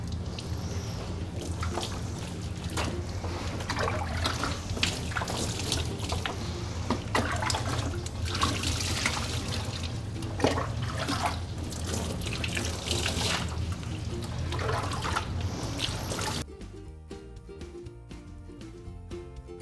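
Water from a hose or tap rinsing shampoo from a dog's coat, a steady close splashing and gurgling with irregular spatters, then cutting off near the end to quieter drips and handling noises.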